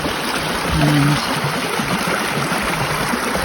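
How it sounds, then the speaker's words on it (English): Drain water rushes quickly down a road, a steady broadband hiss and gurgle heard up close, with a brief faint voice over it. "look how fast that water is running down there"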